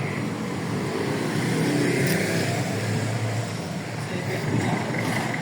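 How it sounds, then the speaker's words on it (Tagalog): Jeepney engine rumbling as it passes on a city street in the Philippines, a steady near low drone with traffic noise around, and people talking over it. "Yan, yung mga jeep na yan. Yan ang sasakyan natin."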